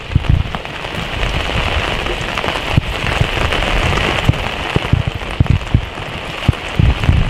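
Water filling a plastic tube for a home siphon experiment, a dense continuous splashing rush with scattered bubbly pops and knocks, loud and close with no talk.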